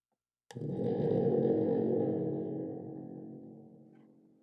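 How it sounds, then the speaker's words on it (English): A single low, buzzing electronic tone starts abruptly and slowly fades over a few seconds, like a dull synthetic shutdown sound. "That's the sound of Wi-Fi disconnecting."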